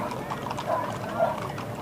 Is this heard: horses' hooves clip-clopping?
yes